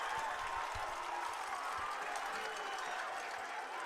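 Football crowd at a high school game between Adrian and Tecumseh roaring steadily after an interception, a dense, sustained wash of cheering and applause at moderate distance with no pauses.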